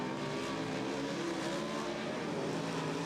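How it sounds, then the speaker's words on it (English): Race cars rev up and take the green flag at a speedway, a dense, distant roar of many engines blending into one continuous wash of sound, fairly faint and steady throughout. "Revs up, and we get the green."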